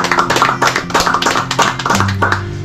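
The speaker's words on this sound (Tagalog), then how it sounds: "Yan, palakpak naman natin." Small audience clapping at a business gathering, a scattered burst of hand claps lasting a couple of seconds, close and fairly loud.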